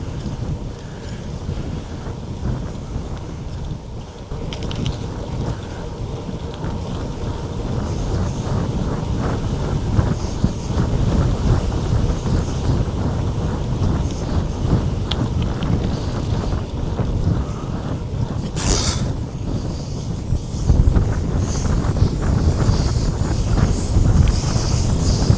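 Strong wind buffets the microphone outdoors in a constant loud roaring rumble for the whole stretch, with a brief sharper gust near the end.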